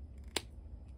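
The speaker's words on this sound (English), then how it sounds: "Snip right here." A single crisp snip of scissors cutting a part for a custom 12-inch G.I. Joe action figure, close and brief, in a quiet room.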